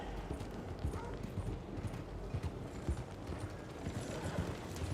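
Horse hooves clip-clop at a steady walking pace in Red Dead Redemption 2, moderately close, over a low ambient background with no talking.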